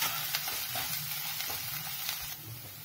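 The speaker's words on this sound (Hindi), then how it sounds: "अदरक हरी मिर्च को भी साथ में सेक ले" Crushed ginger and green chilli fry in hot oil alongside potatoes for samak rice pulao, with a close, steady sizzle broken by soft stirring scrapes.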